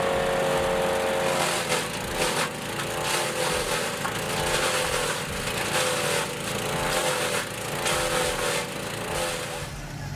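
A garden shredder machine runs loudly and steadily as it expels damp material and leaves, a dense broadband roar with rhythmic surges throughout.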